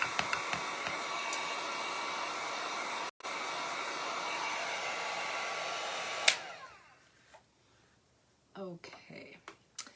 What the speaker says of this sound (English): I'm actually going to use my heat gun. And I'm going to dry this a little bit.